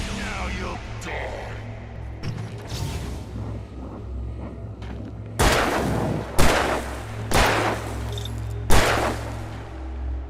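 Gunshots in the Alan Wake Remastered video game: a run of loud, sharp broadband blasts, four or five in the second half, each ringing out over a low droning game score, with fainter impacts earlier.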